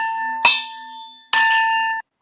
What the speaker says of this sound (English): I do have one of my pot lids with me. I wonder if I could strike it on different parts.